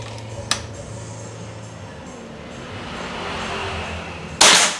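Two sharp cracks from a Bocap Hacker 500cc double-tube PCP air rifle at a nighttime shooting range around 20 meters out. A small snap comes early, and a louder, nearer shot follows several seconds later over a low hum.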